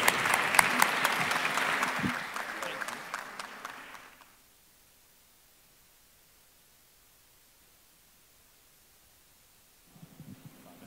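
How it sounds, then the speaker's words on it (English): An audience at a panel conversation breaks into loud, crisp clapping for the panelists. It lasts about four seconds, then cuts to near silence, and a brief burst of clapping returns at the very end. "A big round of applause for our"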